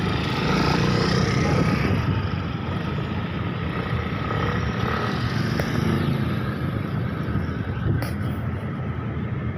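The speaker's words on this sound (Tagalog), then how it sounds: "Mga motor." Motorcycles pass along a street in a loud, continuous engine roar that swells and recedes over about ten seconds, with no talk over it.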